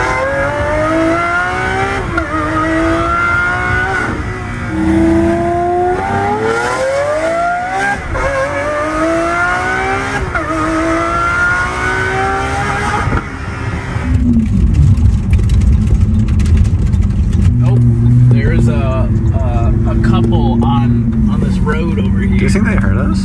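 Lamborghini sports car passes by, its engine rising through revving gear changes before the roar deepens and lingers near the listener, loud and continuous, with a voice over the early part.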